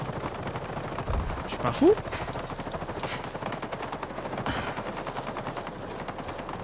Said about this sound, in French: Et ça tire là-bas.